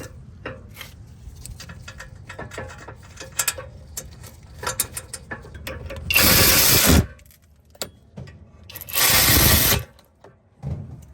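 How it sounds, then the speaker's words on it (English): Clicks and metallic taps from a box-end wrench snugging the 16mm caliper bracket bolts on a BMW 330ci/330xi rear brake, close and irregular, with two louder harsh bursts of rushing noise partway through; no talk. "We're going to tighten these up with the box end wrench."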